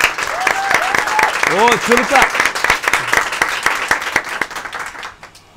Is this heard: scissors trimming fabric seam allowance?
no